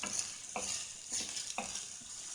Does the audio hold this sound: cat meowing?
no